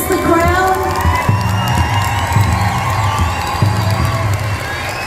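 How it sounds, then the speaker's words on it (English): A crowd cheers, whoops and shouts continuously as Miss Indian World is crowned at the Gathering of Nations powwow, with high excited voices and some clapping in a loud, sustained ovation. "give her a big round of applause"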